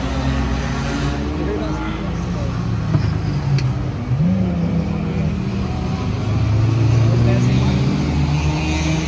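A Chevrolet Caravan revs hard and pulls away sideways in a drift. The engine roar swells and climbs in pitch, staying loud and close under excited voices throughout.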